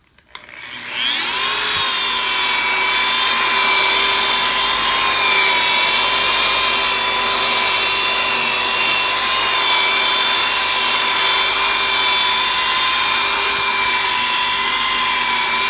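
Rotary and dual-action polishers run continuously with Carpro Clear Cut compound on automotive paint, a steady loud whirring drone with a tonal whine that spins up in the first second and holds without talk.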